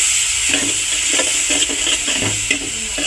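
Cumin and coriander paste being stir-fried in oil for masoor dal bhuna, a steady close sizzle with repeated scraping stirs of a spoon across the pan.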